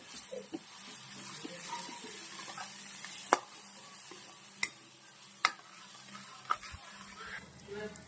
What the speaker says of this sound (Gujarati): મસાલાને આપણે સારી રીતે મિક્સ કરી લઈએ